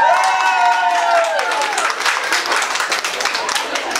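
Guests at a birthday party break into applause, scattered clapping and some cheering that builds after a brief vocal tone at the start and continues unevenly throughout.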